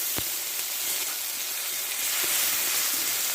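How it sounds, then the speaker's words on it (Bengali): Whole cumin seeds and a bay leaf tempering in hot oil, a steady bright sizzle and hiss running throughout at moderate level, with a couple of faint soft pops near the start and midway. "কিছুটা গোটা জিরে আর একটা দেবো তেজপাতা ফোড়নটা আমি ভালোভাবে ভেজে নেব"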